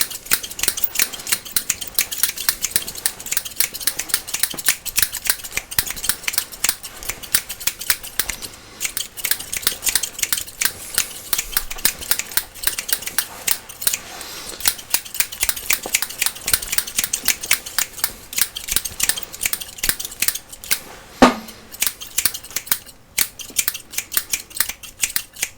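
Scissors snip rapidly and continuously in an ASMR haircut, crisp close-up metallic clicks in dense rhythmic bursts with brief pauses and no talking.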